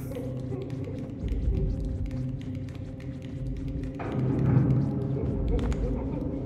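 Heavy thumping footsteps of the Doctor in the Little Nightmares 2 video game, low muffled thuds in a slow rhythm under someone talking.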